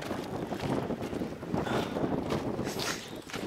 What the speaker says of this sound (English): the wind is just so loud and so crazy